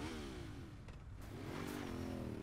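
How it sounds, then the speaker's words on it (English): A vehicle engine revs steadily in a scene from the TV series Into the Badlands, a continuous mid-pitched drone rising slightly toward the end, fairly close and alone. "take your fucking time just revving that up"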